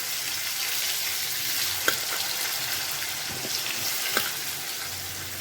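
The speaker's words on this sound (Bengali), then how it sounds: "ভাজা আলুগুলোকে দিয়ে দিলাম।" Fried potatoes tipped into a hot pan with oil and a pinch of asafoetida give a steady close sizzle throughout, with a couple of brief clinks from utensils.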